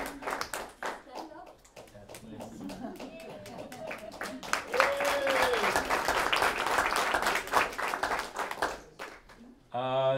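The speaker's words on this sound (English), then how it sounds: "I think he deserves a round of applause" Audience applause with close, distinct hand claps builds into a fuller round of clapping while people talk over it.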